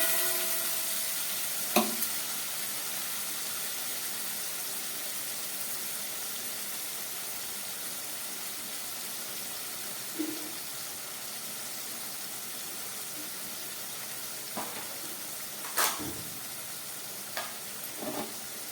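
Masala spice paste fries in a pan on low heat for aloo dum, a steady soft sizzle with a few clinks and scrapes of stirring along the way.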